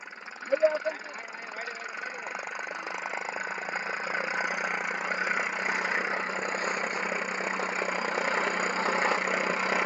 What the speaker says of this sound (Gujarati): આપણું બીજું ટ્રેક્ટર આવેલું આવે છે